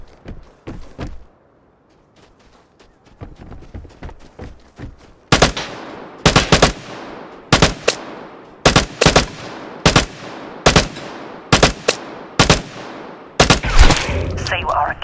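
Gunfire from an AUR A1 assault rifle in the shooter Vigor: a few soft pops early on, then a steady run of loud, sharp single shots at roughly even spacing, each ringing briefly, close and dominant.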